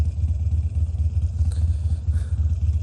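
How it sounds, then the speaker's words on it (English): A motorcycle exhaust rumbles low and steady nearby, a deep throbbing drone with a brief higher whine in the middle. "exhaust, loud and proud"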